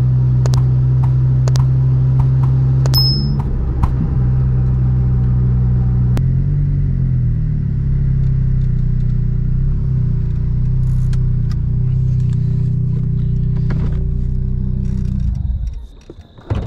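A 1000 horsepower sports car on a track roars past close by with loud, rough engine revving and clattering bursts, then its drone fades away as it moves off, with no talk.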